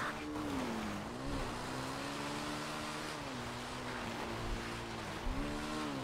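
Motorcycle engines droning steadily through a video game racing event, one tone rising and falling in pitch over a continuous background rush, with no voices.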